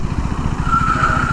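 A KTM SMC R 390 motorcycle slides with its engine droning loud and close, and a thin tyre squeal rises over the rumble partway through.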